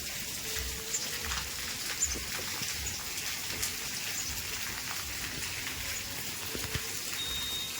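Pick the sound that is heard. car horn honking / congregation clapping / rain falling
rain falling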